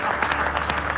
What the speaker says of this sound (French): Et vous pouvez l'applaudir, les gars.